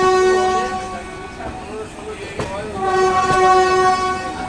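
A passenger train pulls out of Howrah in monsoon rain, its horn droning in long sustained tones over the rumble and clatter of the cars, loud and close throughout.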